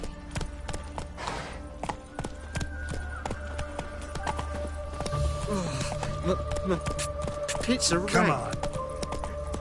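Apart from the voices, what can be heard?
horse Roach galloping in video game The Witcher 3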